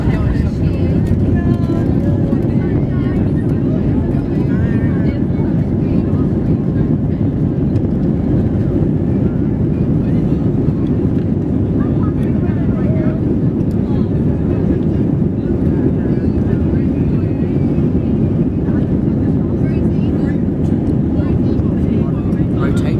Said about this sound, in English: No, we're just going straight for a takeoff.